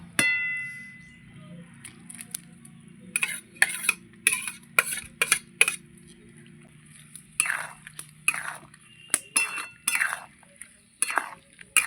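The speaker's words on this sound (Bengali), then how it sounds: "এবার দিয়ে দেবো ভাজা ফুলকপিটা।" Fried cauliflower being stirred into a spice mix in a pan, with repeated scraping and clinking strokes of a utensil against the pan, close and fairly quiet.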